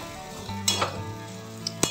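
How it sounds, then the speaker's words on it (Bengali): Flattened rice and semolina sizzle steadily in a pan, with a few sharp scraping stirs cutting through the frying hiss. "এরকম হালকা ভাজলেই হবে, খুব বেশি ভাজার দরকার নেই"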